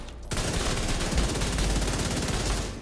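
Sustained automatic gunfire in The Division 2 game, starting after a brief quiet moment and continuing as a rapid, even rattle of shots at moderate loudness, without talk.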